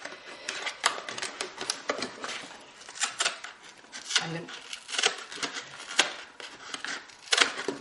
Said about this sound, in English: open your box up, and cut down on either side of your centerpiece